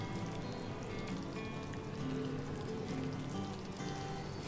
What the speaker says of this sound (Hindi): तो इसे अब अच्छा सा उबाल आने लग गया है